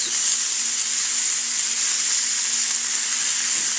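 Salsa ingredients sizzle steadily in a hot pan, a continuous bright frying hiss with no pauses and no talking.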